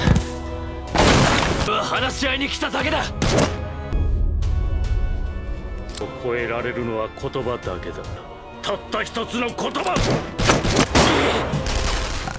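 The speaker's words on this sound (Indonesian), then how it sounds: "terjadilah baku tembak antara mereka berdua" Rapid gunfire rings out in an anime shootout between two hired killers, bursts of sharp shots with crashes and thuds scattered across the scene, mixed with voices and dramatic sound effects.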